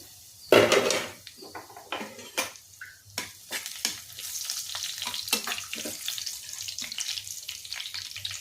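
Whole pulao spices frying in hot oil in a pan give a crackling sizzle, broken up by sharp clinks and scrapes of a spoon stirring against the metal, close by with no talking.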